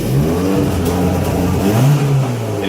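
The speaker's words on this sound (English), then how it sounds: "And it revs up just fine." Engine of a wagon car revving up and holding high revs with a rough, uneven tune, loud and close, a rising harmonic sweep near the end with no talking.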